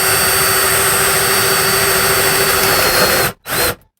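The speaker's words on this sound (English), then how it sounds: "I'm just drilling it" A Neiko step drill bit grinds through material with a loud, steady high-pitched whine that holds for several seconds, then cuts out abruptly and briefly restarts before stopping, with no talking.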